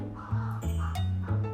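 A wild crow caws loudly and close by, giving about four harsh, evenly spaced calls that stand alone with no talking.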